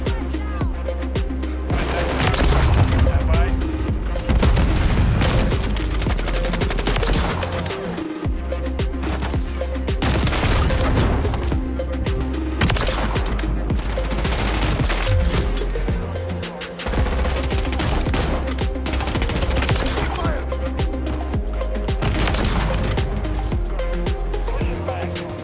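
Dense video game gunfire from Call of Duty Modern Warfare III comes in repeated loud bursts with brief gaps over about 25 seconds, including sniper-rifle fire, mixed with game effects.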